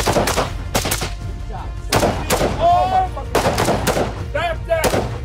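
Three gunshots ring out at special forces training, sharp loud cracks spaced a second or so apart among several other bangs, with people talking and shouting in between.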